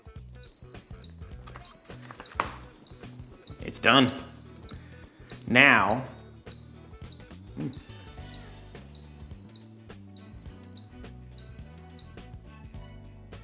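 A series of evenly spaced electronic beeps from an Instant Pot electric pressure cooker signalling it is done repeats about ten times, with a person talking briefly over the middle of the sequence.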